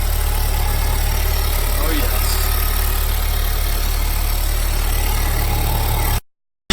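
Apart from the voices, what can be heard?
Honda Civic Type R FK engine idling after cold start with PRL intake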